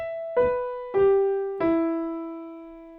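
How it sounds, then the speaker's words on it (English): Three piano notes struck one after another, each ringing out and decaying, played solo and clearly close up as a slow broken chord. "you play a 1 octave arpeggio, which is when you break the chord up and play it from the bottom to the top and back down again"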